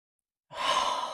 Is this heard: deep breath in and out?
yes